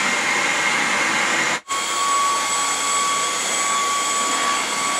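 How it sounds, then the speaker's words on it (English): A Xiaomi robot vacuum cleaner runs with a steady, broadband whooshing motor hum and a faint high whine, cutting out abruptly for a split second before resuming at an even level. "And this is the sound compared to the Xiaomi vacuum robot."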